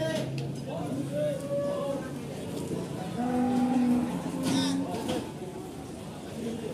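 Cattle lowing repeatedly at Paing livestock market in Pati, where cows weighing around 400 kg are gathered for Qurban sacrifice; several long moos rise over a busy crowd murmur, with people talking throughout.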